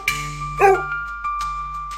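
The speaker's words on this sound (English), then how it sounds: "This is a dog. Dogs are loyal friends and say woof." A dog barks or yips in a few short, close bursts, with no talking, set among children's farm-animal sounds.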